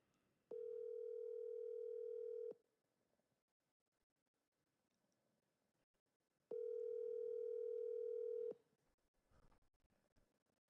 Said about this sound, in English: Just so you know, Gail, this is Teresa we just dialed.